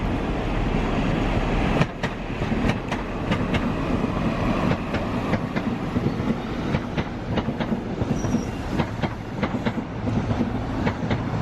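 A train rumbles steadily through Doncaster station, loud and close, with a dense clickety-clack of wheels over rail joints repeating throughout and no speech over it.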